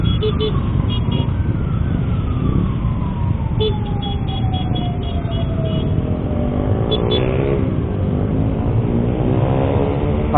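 Ambulance siren wailing in busy holiday highway traffic, its falling tone drifting past under steady road and engine rumble from inside a moving car.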